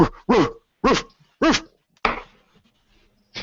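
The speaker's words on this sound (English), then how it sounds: "you also hear a bark coming from the inside" A dog barks from inside a building, five sharp separate barks spaced about half a second apart, fairly close and loud against an otherwise quiet night.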